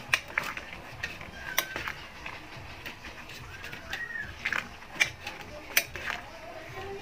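A spoon stirs mung beans and bitter gourd leaves in a metal pot, giving quiet, irregular clinks and scrapes spread over several seconds against a soft room background.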